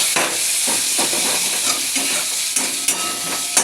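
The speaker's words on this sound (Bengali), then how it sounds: "এদিকে ঝোলটা ফুটে উঠেছে" A pot of fish curry at a rolling boil, giving a loud, steady hiss with bubbling and sputtering close by, and no voices.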